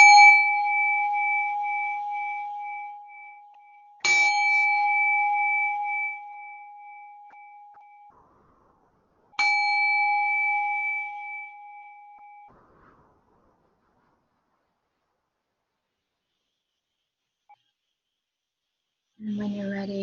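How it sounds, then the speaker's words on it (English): Meditation bell struck three times, each ring a clear bright tone that sustains and slowly fades in a quiet room, followed by a soft voice speaking. "I'm going to go ahead and ring the bell a few times."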